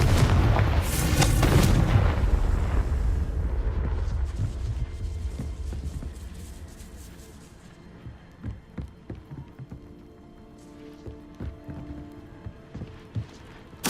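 Explosive spell blasts, Bombarda and Confringo, cast in Hogwarts Legacy: loud booming bursts at the start that fade into a rumbling tail, followed by scattered clattering impacts and debris sounds.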